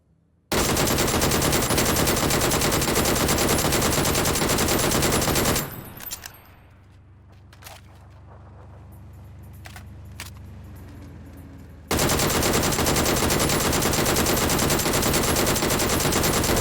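A DP-28 machine gun in the video game PUBG fires long, loud continuous bursts, close up. The first burst runs about five seconds and the second starts after a quieter gap with faint rumble and clicks.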